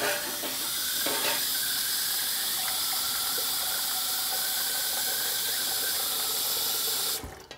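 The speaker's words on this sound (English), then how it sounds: "Put the water on about halfway." Water pours from a kitchen tap into a cooking pot as it is filled about halfway, a steady close hissing rush that stops abruptly near the end.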